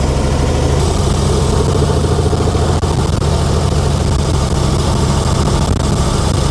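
A car drives on the road without tags or insurance, its engine giving a loud, steady, close drone that holds constant throughout with no voices.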